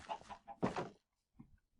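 A chicken from a chicken coop mod in a video game, giving a short run of clear, close clucks in two bursts, followed by a couple of fainter clucks after a brief pause.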